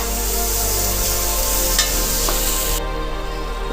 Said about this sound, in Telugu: పేస్ట్ కూడా కొంచెం గోలించాలి.